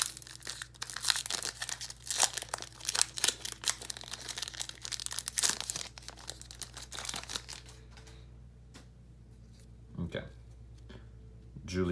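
Foil wrappers of 2017 Panini Essentials basketball card packs crinkle and tear open, busy and close for about eight seconds before thinning to sparse handling clicks.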